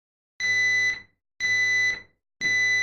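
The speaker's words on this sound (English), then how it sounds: "a horn sound of a smoke alarm" Three loud, harsh electronic horn blasts from a Nest smoke detector, each about half a second long, repeating at a steady one-second interval with silence between.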